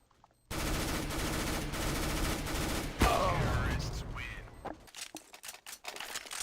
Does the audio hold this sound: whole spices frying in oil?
no